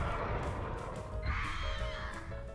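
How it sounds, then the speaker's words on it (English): Crows caw in a video game horror match, several rough calls overlapping and fairly close against a dense, murky background with no talking. "She once again falls to my ravenous flock of crows"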